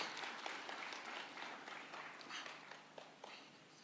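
An audience at a Kenya-EU trade agreement signing ceremony claps in a dense, steady wash of applause, heard at a distance and fairly faint throughout.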